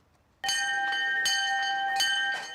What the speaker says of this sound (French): La cloche retentit dans les halles centrales